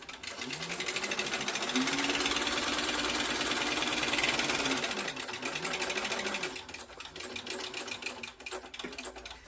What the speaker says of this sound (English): I'm going to now stitch around the edges, but I'm going to do it from the back so that I can see and make sure I'm catching the pocket